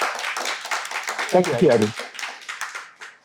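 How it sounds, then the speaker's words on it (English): Applause for a student named Eddie in a classroom, a brief burst of scattered clapping from a small group, mid-level and close, surrounded by a speaking voice. "Can everyone give a round of applause to Eddie?"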